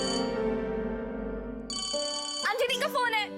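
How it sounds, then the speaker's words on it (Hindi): A telephone rings indoors in a steady electronic ringtone that shifts pitch partway through, while people talk over the latter part of the ringing. "अंजलि का फोन है"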